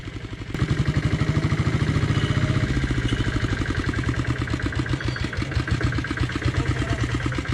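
A Royal Enfield Bullet motorcycle with a diesel engine idles close by, its loud, rapid, even thumping pulses continuing steadily after a brief start-up at the beginning.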